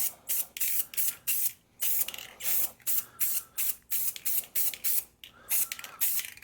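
Short bursts of aerosol spray paint laid as a light coat on a truck rim from a 1971 GMC, about a dozen even hissing pulses in steady rhythm, close and alone.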